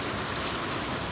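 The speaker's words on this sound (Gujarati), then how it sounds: "વરસાદ શરૂ થઈ ગયો હે નેક્સ્ટ લેવલ" Heavy rain pours down in a steady, dense hiss of drops hitting surfaces nearby, loud and unbroken throughout with no voices.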